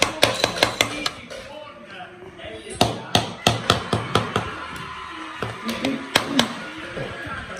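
Hammer striking a table at home, rapid bursts of sharp close knocks in irregular clusters, loud and percussive, with a quieter pause in between and faint talk in the background.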